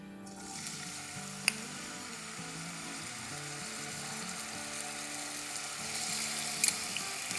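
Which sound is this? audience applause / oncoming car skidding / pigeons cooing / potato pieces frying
potato pieces frying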